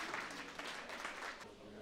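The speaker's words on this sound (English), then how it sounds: "give yourselves a round of applause" Faint, distant applause from a committee meeting audience during a facilities presentation, a short burst of scattered clapping under room noise.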